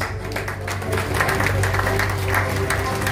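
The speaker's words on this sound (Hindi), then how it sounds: "Can you please give a round of applause?" Audience applause at a news channel award ceremony, a steady wash of clapping that holds at an even level throughout, with faint voices underneath.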